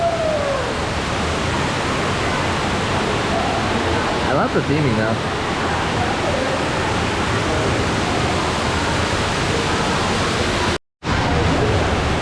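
Steady broadband rush of flowing water along a gentle lazy river at Discovery Cove, a constant wash filling the whole clip with a brief dropout near the end, while a person speaks briefly over it.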